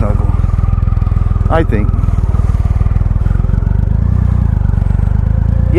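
A Triumph Rocket III motorcycle rumbles steadily on a test ride, its big engine a loud, close, pulsing throb throughout, with a person talking briefly over it.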